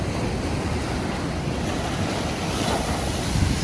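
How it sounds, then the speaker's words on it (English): Ocean surf washing up a beach at high tide on a moody, windy day, a steady broadband rush of breaking waves with wind buffeting the microphone and a slight swell toward the end. "I can already hear the sea is rising."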